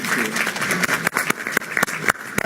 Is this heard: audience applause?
yes